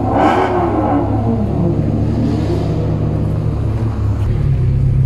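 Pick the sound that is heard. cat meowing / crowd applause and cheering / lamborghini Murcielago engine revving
lamborghini Murcielago engine revving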